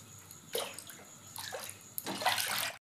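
Water poured into a pot to boil banana flower, three short splashing pours in quick succession, close and clear, no talking.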